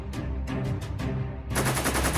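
Gunfire in a dubbed dinosaur movie, loud and close, with rapid bursts of automatic fire that thicken into a dense sustained volley toward the end.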